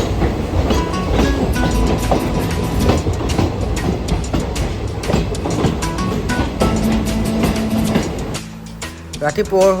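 Rhythmic clatter of train wheels rolling along the tracks in Dima Hasao, Assam, with a constant rumble and faint voices in the background.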